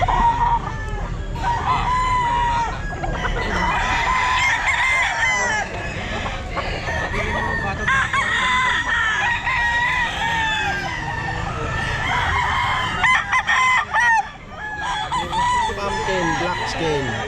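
Black-skinned pumpkin gamecock stags at a Filipino pet market crowing and clucking among other fowl, several loud overlapping crows in a busy, cluttered setting with background voices.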